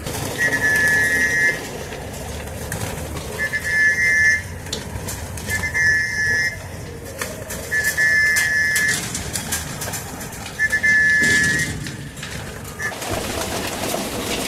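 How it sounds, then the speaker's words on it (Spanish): Pigeons being fed with scattered snacks coo and flutter nearby, with repeated short bright whistles recurring through the scene and people talking faintly in the background. "y andan echando botanita a las palomas"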